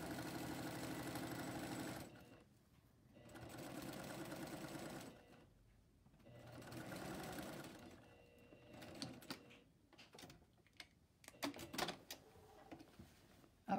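A sewing machine topstitches along the back of a shirt in several bursts, each run a close mechanical whir, separated by pauses filled with small handling clicks and fabric rustles.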